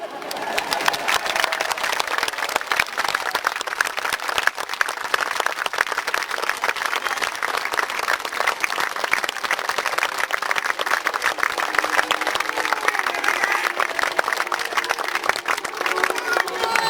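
An outdoor crowd applauds at a history festival reenactment, a sustained dense roar of clapping lasting throughout, with birds cooing faintly in the background.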